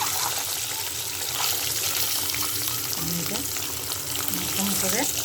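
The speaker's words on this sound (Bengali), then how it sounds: "ডিমগুলো আমি একটু এখন লাল লাল করে একটু ভেজে নেব" Eggs frying in oil with turmeric and salt give a steady, close sizzle with crackling spatter, plus a few faint clinks and scrapes near the end.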